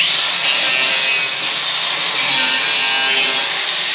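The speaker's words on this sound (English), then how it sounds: "So what I just do is just take the grinder and" An angle grinder grinds down nail heads in the wood of a new shop bench, a loud, continuous, close abrasive hiss that holds steady throughout with no talking.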